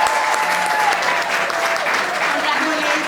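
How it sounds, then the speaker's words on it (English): An audience applauds steadily to welcome Elena Rivera at a Hispanic Women of Impact awards reception, a dense, continuous wash of clapping that holds at an even level throughout. "Please, let's welcome to Elena Rivera with a big round of applause."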